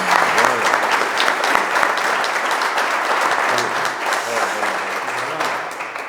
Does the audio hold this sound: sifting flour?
no